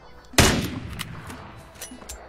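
Gunfire in the PUBG battle royale game: one loud, close shot bursts out and rings off, followed by a few fainter, scattered pops with no talk.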